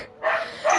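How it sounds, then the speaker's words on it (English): A dog in a kennel full of puppies and German Shepherds gives a short yelping bark, quickly followed by a second higher yip, close by and alone. "I've got a load of dogs in today, so a few puppies and German Shepherd"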